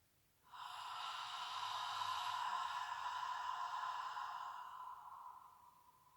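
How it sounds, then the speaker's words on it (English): A long, slow exhale during a nighttime yoga session, a soft airy breath that swells and fades over several seconds, heard close up and alone in a quiet room. "So I'm going to go for 2 more breaths."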